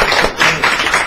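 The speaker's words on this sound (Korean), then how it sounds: "빨리 박수" A short, brisk round of applause in a meeting room during a discussion, several hands clapping loudly in a quick, uneven burst lasting about a second.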